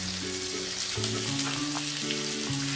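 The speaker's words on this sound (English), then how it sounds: "I still don't have a strong sizzle, but that's okay." Shrimp taco filling with pineapple sizzles and crackles steadily in a hot pan, a continuous frying hiss with no talking.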